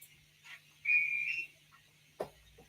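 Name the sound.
toy train guard's whistle, bubble car's whistle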